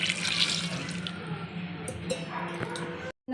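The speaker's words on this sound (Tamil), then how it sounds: "இப்போ காய் வேகிற அளவுக்கு தண்ணி ஆட் பண்ணிக்கலாம்." Water pours steadily into a cooking pot of vegetables for about three seconds, a continuous splashing rush that cuts off abruptly near the end.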